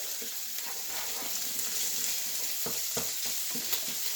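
SOS gravy being stirred in a pan, with a steady sizzling frying hiss throughout and scattered soft scrapes and clinks of the utensil against the pan bottom; no voices.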